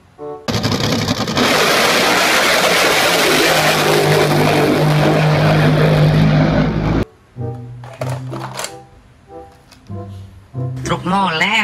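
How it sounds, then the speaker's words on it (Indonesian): A toy speedboat gives a loud, steady motor whir for about six seconds, then cuts off abruptly and a voice follows. "Kapal speedboat."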